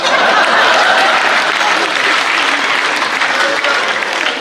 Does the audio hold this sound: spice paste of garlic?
no